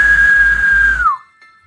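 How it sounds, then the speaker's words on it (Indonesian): A loud, sustained whistle rings out as a sound effect in an Indonesian Wiro Sableng martial-arts audio drama, holding a steady pitch for about a second before bending downward and cutting off abruptly. "Dari mulutnya terdengar suara suitan keras"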